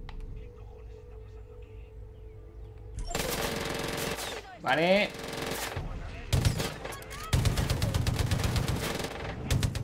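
Bursts of rapid automatic gunfire in the video game Far Cry 5 on Xbox One X, loud and rattling in long volleys, with a brief spoken word between them.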